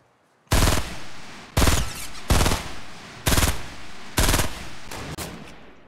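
Gunfire in the video game Fortnite: five loud, evenly spaced single shots about a second apart, each sharp and booming with a short decay, a softer sixth at the end; no voices.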